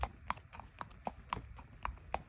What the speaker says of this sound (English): He's a walking horse.